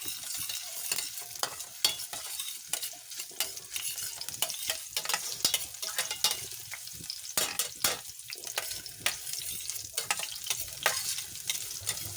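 Onions sautéing in a pan for menudo, with busy sizzling and frequent sharp stirring clatters of a utensil, plus some running water in the background.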